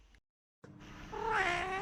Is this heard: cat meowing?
yes